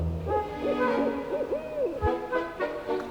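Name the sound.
owl hooting at a screech owl sanctuary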